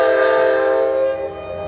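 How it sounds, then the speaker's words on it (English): A train horn blows loud and close in a long sustained chord as a train passes, then the blast cuts off and fades into quieter rumbling. "That's the train, Larry."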